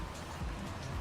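Rain falls in Farming Simulator 25 around a heavy tractor on muddy ground in Japan, a soft, steady patter with a low rumble beneath it, brief and fairly quiet, with no voices.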